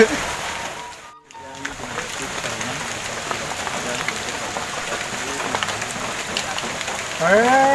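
Steady rain falls across an outdoor rural scene, a dense, even hiss that carries through the whole stretch with a brief dip near the start and a heavier wash toward the end.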